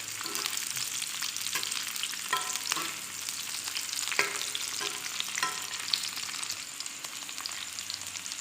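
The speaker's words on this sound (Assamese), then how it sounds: "এতিয়া মাছ ভজা তেলতে মই পিঁয়াজখিনি দি দিছোঁ।" Large-cut onions frying in oil left over from frying fish, a steady close sizzle with intermittent scrapes and clicks of stirring, no voices.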